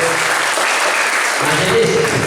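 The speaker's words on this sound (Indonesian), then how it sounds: "Kita harus tepuk tangan untuk orang tua dulu" Church congregation at a GKI Sola Fide thanksgiving service for the children's ministry anniversary, clapping for the parents: dense, steady applause from many hands filling the room, with voices mixed in underneath.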